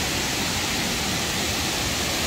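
Kravice waterfall in Bosnia gives a loud, steady, unbroken rush of falling water, with no voices over it.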